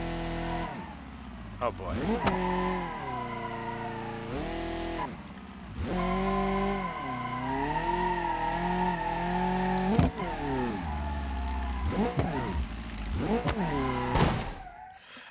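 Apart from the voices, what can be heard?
car accelerating with nitrous in BeamNG.Drive video game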